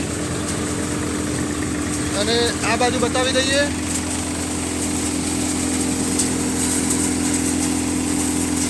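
A Param basket-model thresher from Visnagar, driven by a tractor PTO at 540, threshes a sava (dill) crop with a steady mechanical drone and engine hum, while someone talks briefly over it.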